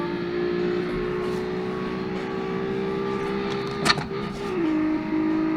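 A 2.1 liter V6 in a Miata body, driven in the game Automation, hums at a steady pitch, then briefly spikes and shifts tone before settling back to a constant drone.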